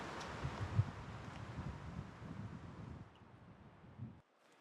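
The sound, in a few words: wind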